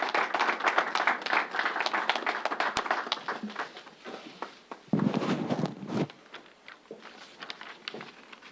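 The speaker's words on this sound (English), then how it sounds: "let's give the Reverend a big round of applause for making this a pop-up center" An audience claps for a reverend at a pop-up vaccination center event with New York Governor Cuomo, a burst of scattered applause that thins out, swells briefly again, then fades.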